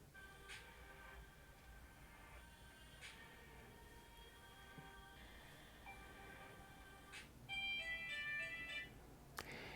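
An instrumental ringtone preview plays from a Redmi Note 15 Pro phone, quiet chiming melodic notes in a short repeating pattern, with a brighter burst of tones near the end.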